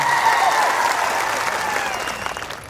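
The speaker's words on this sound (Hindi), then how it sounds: "एक बार जोरदार आपके लिए तालियां बजा दी जाए" Loud crowd applause at a political rally for a Bhil Pradesh demand, a sustained roar of clapping from a large outdoor audience that tapers slightly toward the end, with a voice faintly audible at the start.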